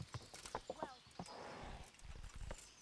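In Kingdom Come: Deliverance, a horse's hooves clip-clop in uneven steps, a brief whinny rises early on, and faint background sounds continue, with a voice speaking softly at times.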